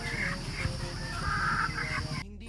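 Chickens cluck and call repeatedly at close range, a busy outdoor flock of backyard fowl with a steady rustling background.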